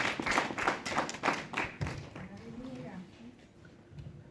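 A church congregation claps and applauds in acclamation during an evangelical sermon, a burst of rhythmic hand claps that fades into scattered taps and murmuring over the next few seconds.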